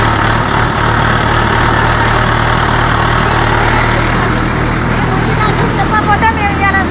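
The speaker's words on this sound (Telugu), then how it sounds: "Unexpected tractor journey." A tractor engine drones steadily and close during a ride through countryside near a waterfall, a low, even rumble running throughout, with voices faintly mixed in.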